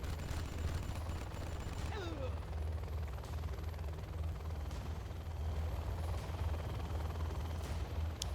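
A Helix helicopter in the strategy game Zero Hour fires on Toxin rebels, with a continuous low rotor drone, sporadic gunfire bursts and a brief descending whistle, and battlefield sounds throughout.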